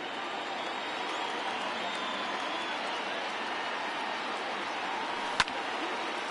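Steady roar of a baseball stadium crowd of over 39,000 in a video game, on their feet cheering continuously, with one sharp crack near the end.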